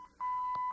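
A 1968 AMC AMX car radio converted to FM with Bluetooth gives a few short electronic beeps, clear and close in a quiet setting.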